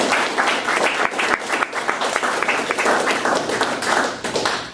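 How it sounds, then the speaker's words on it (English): A crowd applauds after being asked to welcome a guest at a South Texas gathering, the steady clapping loud and sustained throughout with a few sharper claps standing out. "give you a hearty South Texas round of applause for joining us today"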